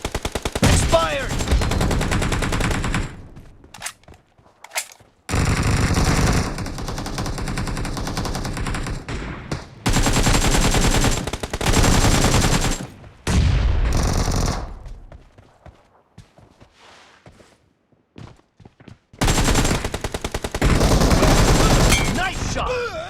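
Gunfire in a shooter video game, loud bursts of rapid automatic fire separated by short quiet gaps, with a few single shots near the end.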